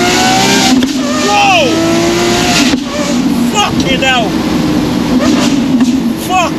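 A straight-piped Lamborghini SVJ Roadster accelerates hard, its exhaust rising in sharp, loud revving sweeps through successive gears, close and dominant with a brief tire squeal.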